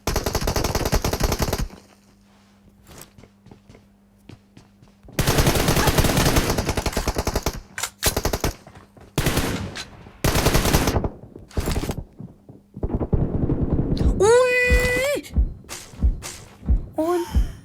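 Rapid bursts of gunfire from the mobile battle royale game PUBG Mobile, loud and repeated in several clusters with short gaps, alongside other game effects and a rising whistle-like tone near the end.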